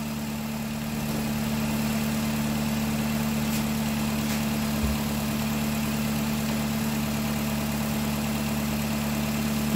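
Steady idle drone from a 2010 Nissan with a CVT transmission, a constant low hum carrying a faint whine throughout, heard close and unchanging with no talk.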